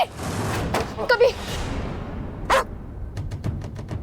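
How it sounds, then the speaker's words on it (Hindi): A dog barks a few times in short, sharp bursts at middling distance, mixed with a tense dramatic scene and some background voices. "कुत्ते काटा तो नहीं?"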